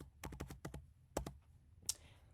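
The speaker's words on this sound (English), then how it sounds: "I'm going to type out the word" A burst of quick keystrokes on a computer keyboard, then a couple of sharper clicks, close and quiet, with no voices.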